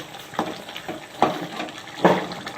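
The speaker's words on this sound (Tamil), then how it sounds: "இந்த பாருங்கள், காளான் குழம்பு நல்லா கொதிக்குது." A pot of mushroom kuzhambu, made with native mushrooms, boils close by, giving soft bubbling pops that recur about every second over a quiet simmer.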